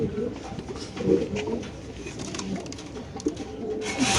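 Pigeons kept for sale, including a pair of racers, give low, soft coos up close, with rustling and light handling noise around them and a person talking in between.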